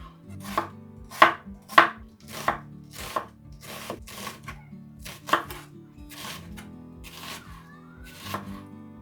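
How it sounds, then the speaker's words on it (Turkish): A knife slices onions on a cutting board, a dozen or so sharp, evenly paced strokes, close and distinct with no talking. "Soğanlarımı piyazlık doğrayacağım."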